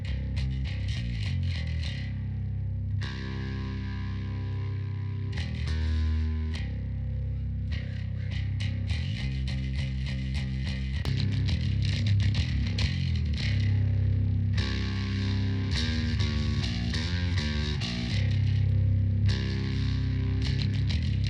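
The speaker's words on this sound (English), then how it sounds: "Just give you a little listen to the bass." A bass part from a music mix played solo, distorted, effects-laden bass notes running in a steady rhythm for about twenty seconds, fairly quiet and without voices.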